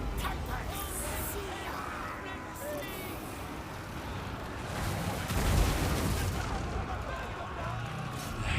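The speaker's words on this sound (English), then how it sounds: "Artillery's still flying in." Artillery barrages in a Total War: Warhammer II battle form a dense, continuous roar of rumbling blasts and crackling impacts, with a heavier surge near the middle and steady loud battle noise throughout.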